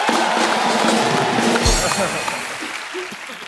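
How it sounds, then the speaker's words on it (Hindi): Studio audience on a Hindi comedy talk show set, the Kapil Sharma Show, breaking into loud, dense, sustained clapping mixed with cheers, filling the room close up and tapering slightly toward the end. "जोरदार तालियां हो जाए एक बार।"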